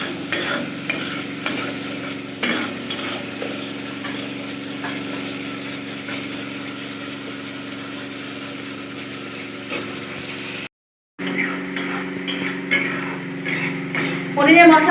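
Masala cooked down with boiled tomato paste in a pan, a loud continuous sizzle and frying hiss with repeated stirring scrapes, close up, a brief dropout near the end before the sizzle resumes.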